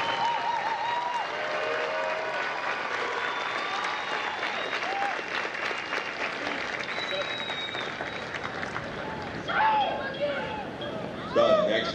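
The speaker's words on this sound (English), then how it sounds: "Ladies and gentlemen, please join me in a round of applause for the company staff of Hotel Company." Sustained applause from a large crowd at a Marine Corps recruit graduation ceremony at MCRD San Diego, with steady clapping and background crowd murmur, swelling briefly near the end.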